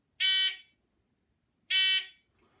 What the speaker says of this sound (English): So I've got my timer here.